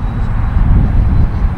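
An E-flite Viper 90mm EDF RC jet flies past with a loud, steady ducted-fan roar at full throttle, close and continuous with no talk.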